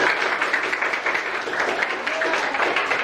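A classroom of schoolchildren claps for everyone after a class cheer, with loud, continuous close clapping filling the room.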